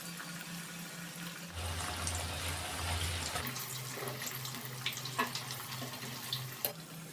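Banana pakoda fritters frying in hot oil give a steady, dense sizzle and crackle, louder in the middle stretch, with occasional sharper pops and no talking.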